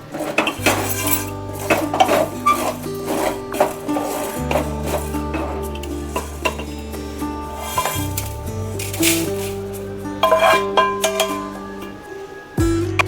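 Whole spices dry-roasting in a pan, with close, repeated metallic scrapes and clinks of a utensil against the cookware, busy and continuous throughout with a low background hum.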